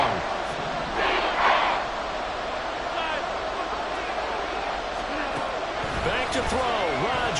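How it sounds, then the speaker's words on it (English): A stadium crowd roars continuously in a Madden football video game, a dense loud wash of cheering with swells, with a commentator's voice over it. "This crowd turning up the decibel level"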